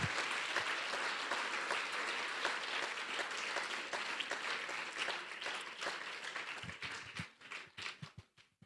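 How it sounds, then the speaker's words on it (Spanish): A church congregation applauds, the dense clapping holding steady before thinning out into scattered claps that fade away. "Si le va a dar el aplauso, déselo al Señor"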